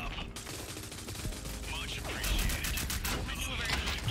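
Rapid video-game gunfire from Rogue Company, several bursts of shots mixed with game effects and a voice talking over them, loudest in the second half.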